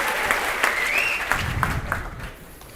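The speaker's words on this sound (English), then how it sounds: "give yourselves a round of applause." Applause from a live seminar audience at an accelerated learning talk, a dense steady wash of many hands clapping that fades slightly toward the end.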